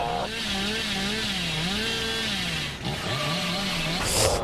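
A chainsaw in the Dead by Daylight horror game revs loudly and continuously, its engine pitch rising and falling in waves, with a brief dip near the end before it surges again.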